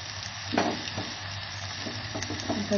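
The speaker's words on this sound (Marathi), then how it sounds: "आता आपण यात पहिल्यांदा मसाले परतून घ्यायचे" Turmeric and other spices fry in a pan with sautéed onion and tomato for a chicken rassa with tender cashews, a soft steady sizzle broken by occasional stirring scrapes.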